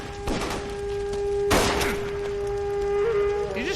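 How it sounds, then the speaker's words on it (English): A single sharp gunshot cracks out in LA Noire amid a steady tonal hum and background game ambience, with a brief earlier impact and faint voices stirring toward the end. "Did he just shoot Phelps?"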